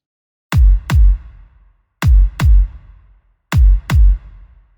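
A digital beat maker plays a simple drum pattern: two quick low thumps followed by a pause, repeating three times in a steady stomp-stomp rhythm, loud and alone.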